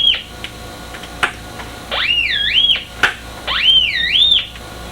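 Standard test tone from a handmade Syncrometer probe: two swooping, whistle-like electronic tones, each rising and wavering for about a second, separated by faint clicks and low hiss, with no voices.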